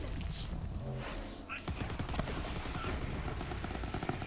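The Gargoyle gun in Borderlands 3 fires a dense, rapid stream of shots that runs steadily for several seconds. Talking is mixed in with the shooting.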